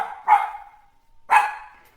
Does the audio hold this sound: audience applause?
no